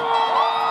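A demolition derby crowd in Salmon, Idaho, cheering and whooping together, a loud, dense burst of voices that fills the short moment.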